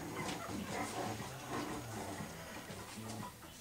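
Very young puppies, two to three weeks old, whimper and yelp at play, with soft repeated whines and little tonal cries over a faint, steady background.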